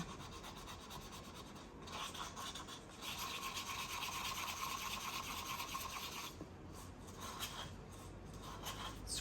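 Utensil mixing and scraping the sides of a small cup, giving a continuous close, faint rasping scrape that swells and eases over several seconds with no talking.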